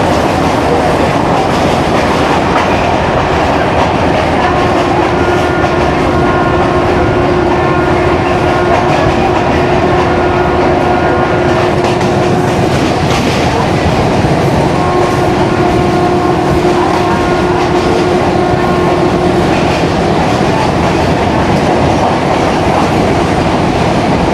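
From on board the Kohat Express between Rawalpindi and Kohat, a steady rolling rumble with rhythmic wheel clatter and faint sustained squealing tones carries on continuously as the train climbs a grade.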